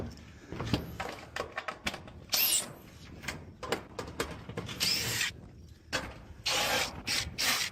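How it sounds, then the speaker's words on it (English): Screws are backed out of roof shingles in a run of short, sharp mechanical bursts and clicks. Brief whirring spurts alternate with pauses and handling knocks, close and fairly loud. "So, start taking out screws."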